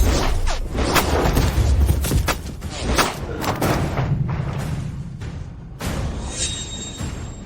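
Rapid gunfire of booming, thudding shots fired at a man who stops the bullets, loud and dense with heavy low-end impacts, then tapering into scattered thumps and a high ringing tone.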